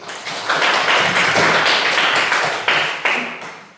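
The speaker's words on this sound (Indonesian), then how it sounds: "Kita beri aplaus buat semua" Applause from a class of students in a classroom, a burst of many hands clapping together, loud and close, rising quickly and then tapering off over a few seconds.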